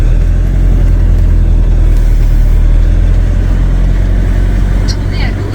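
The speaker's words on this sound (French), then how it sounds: "Oh, il y a une voiture." A car runs steadily and loud throughout, a close, continuous engine and road rumble, as if passing or travelling right by, with faint voices at moments.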